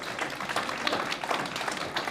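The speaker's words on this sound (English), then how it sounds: "give them a big round of applause" Applause from an audience at a festival launch night for young dancers, a steady dense patter of many hands clapping at moderate level for two seconds with no talk over it.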